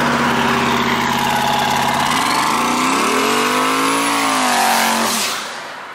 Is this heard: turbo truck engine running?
yes